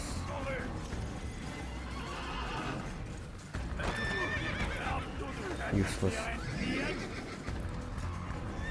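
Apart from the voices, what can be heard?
horse neighing in a video game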